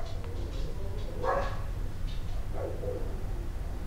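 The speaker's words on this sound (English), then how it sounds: "there's people walking their dog and their dog's barking at my house" Dogs barking at people walking a dog past a house, a few muffled barks heard from a short distance indoors, alone without talk.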